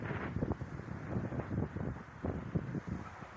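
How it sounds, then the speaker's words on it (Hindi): Wind gusts at the old Madinah railway station, buffeting the microphone in uneven, rumbling bursts, close and moderately loud. "हवा का साउंड आप महसूस कर सकते हैं माशाल्लाह, बहुत प्यारी हवा चल रही है"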